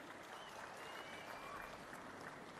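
Applause from a crowd at a rally where the Chief Minister addresses villagers in Punaparivaripalem, a dense steady wash of clapping that holds for a few seconds at moderate distance.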